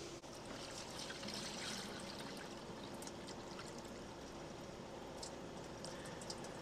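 Water from a gallon jug pours through ordinary landscaping fabric stretched over a 5-gallon bucket, giving a steady close trickle and splash that runs unbroken with no talking.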